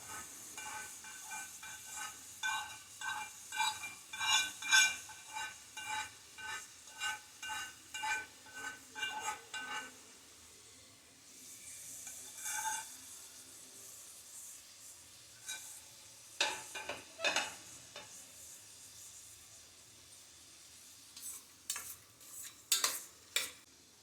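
Paneer pulao ingredients softening in a little leftover paneer-frying oil: a quiet, faint sizzle broken by repeated spoon scrapes and taps against the pan, with a calmer stretch midway.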